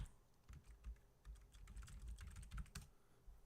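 Typing on a computer keyboard, quick irregular clusters of light key clicks at close range, fairly quiet, with no talking over it.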